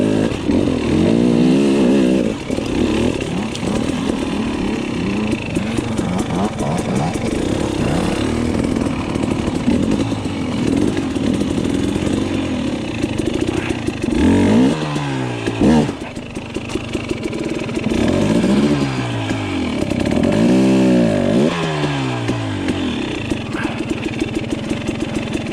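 KTM dirt bike engine revving hard on a rock climb outdoors, loud and close, with repeated rising and falling revs, sputters and bursts of throttle over a continuous engine drone.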